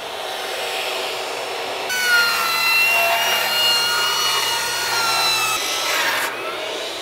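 Sawing through 2x4 wooden top and bottom plates for a framed bathroom wall, a steady, close rasping cut lasting several seconds with no talk.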